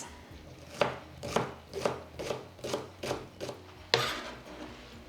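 A knife chops red chilli finely on a board in a series of about eight close, distinct chops at an uneven rhythm, each a sharp thud with a brief scrape, one louder cut near the end.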